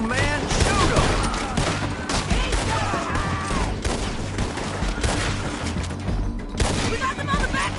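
Dense bursts of Old West gunfire in Red Dead Redemption 2 during a town shootout, overlapping rifle and pistol shots crackling loudly and continuously, with voices shouting underneath.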